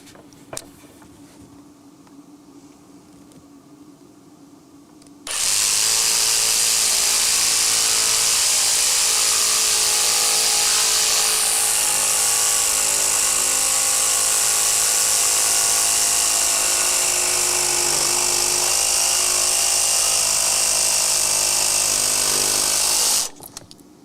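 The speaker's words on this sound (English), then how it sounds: "Now, I'm gonna take the jigsaw out now. I wanna get this started," A jigsaw cutting wood for a walking cane starts abruptly after a quiet stretch and runs loud and continuous for about eighteen seconds with a rough, buzzing tone before stopping.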